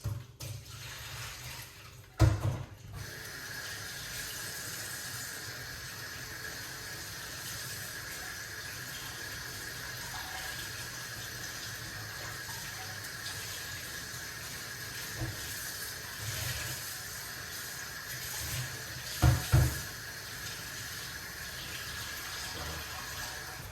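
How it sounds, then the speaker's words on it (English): Ginger and rosemary rinsed under a running kitchen tap, a steady close rush of water flowing for the whole stretch with a couple of brief louder splashes and clunks. "You have to wash off the ginger and the rosemary."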